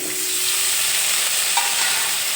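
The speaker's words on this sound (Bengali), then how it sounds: "ভাজার জন্য আলুগুলো কড়াইতে দিয়ে দিলাম" Potatoes fry in a little leftover oil in a wok, a dense, even sizzle and hiss close by, with a faint stirring clink near the middle.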